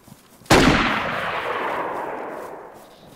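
A single warning gunshot in a video game cracks out loud and close, then trails off in a long fading echo, with no talk.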